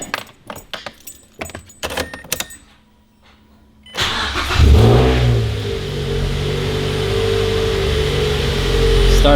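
Keys jangle and click inside a Mazda NC Miata fitted with an AEM cold air intake, a short pause follows, then the engine cranks, catches and settles into a loud steady run close by.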